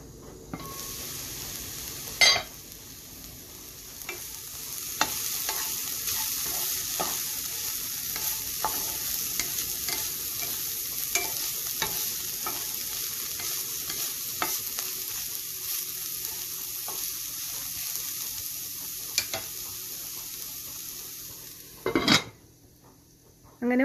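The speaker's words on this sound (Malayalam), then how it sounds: "തുറന്ന് ഇളക്കി കൊടുക്കുക" Broccoli and moong beans cooking in a pan with onion, stirred repeatedly: a steady close sizzle under a long run of scraping, clinking spoon strokes, ending with a louder clatter of the pan or lid.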